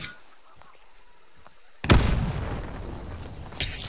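A sudden loud bomb blast in a video game follows a quiet stretch, with a booming rumble that slowly fades and a second, smaller pop near the end.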